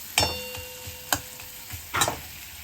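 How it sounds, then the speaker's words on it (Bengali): Grated garlic stirred and fried together in a pan while cooking prawns with potato and pointed gourd: a few distinct scraping, clattering stirs of a utensil against the pan over a faint sizzle, with quiet gaps between strokes. "রসুনটাও আমি একসাথে মিশিয়ে নাড়াচাড়া করে ভেজে নিচ্ছি"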